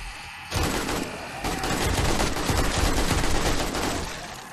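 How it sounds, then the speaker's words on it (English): Loud, sustained automatic gunfire from a gun in the zombie survival game 7 Days to Die, a dense rapid burst of shots that starts abruptly after a brief quiet moment and keeps going to the end, close and harsh. "this gun is so loud, it's calling all the zombies in the area"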